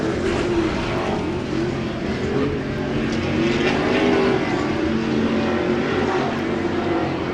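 Pro Lite off-road race trucks racing at Glen Helen Raceway, several loud engines droning and revving continuously with rising and falling pitch as the trucks pass through a corner.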